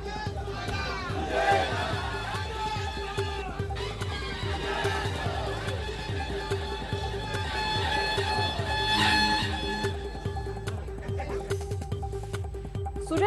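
Political supporters celebrate in Ahmednagar with a loud, dense crowd shouting and chanting over a rhythmic pulsing beat that continues throughout, with voices raised together rather than in clear speech.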